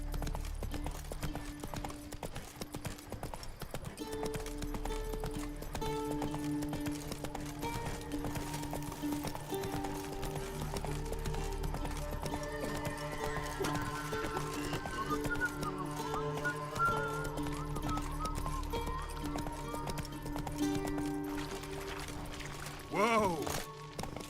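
Horse hooves clip-clop at a steady gallop through a video game scene, running continuously under layered game music and ambient noise, with a brief whinny-like sweep near the end.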